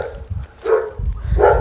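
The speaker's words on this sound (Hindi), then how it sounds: "बुआ के कुत्ते भौंक रहे हैं मेरी आवाज़ सुनकर।" Two of the aunt's dogs, close by, each give a loud single bark, one after the other, at a village home beside a fodder store.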